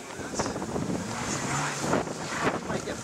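Strong, cold blizzard wind buffets the microphone in a continuous roaring rush with gusty swells, loud and close, no talk.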